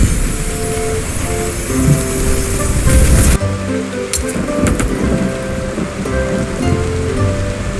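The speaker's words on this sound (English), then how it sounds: "The storm raged with immeasurable force." Raging storm in the video game Dungeons 4, with steady heavy rain and a dense rumbling wash that swells, cuts sharply, then returns with thunder-like bursts and crackles, loud and continuous with no talk.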